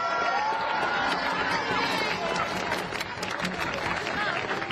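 Street protesters applaud and cheer at a nighttime march, a burst of clapping and shouts from a crowd nearby, with voices chattering over it before it thins out.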